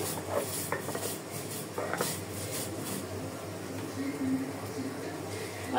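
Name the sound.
grinding black cumin (kalo jira) for a mash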